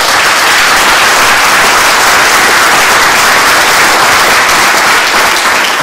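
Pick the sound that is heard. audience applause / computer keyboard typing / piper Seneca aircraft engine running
audience applause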